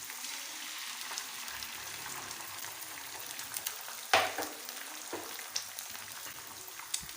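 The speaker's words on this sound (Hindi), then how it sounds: "यहाँ पर मैं एग शामिल करने लगा हूँ एक साइड पर।" An egg fries in a pan alongside cooked okra (bhindi), giving a soft, steady sizzle with faint crackles and one brief sharper pop midway, quiet and close with no talking.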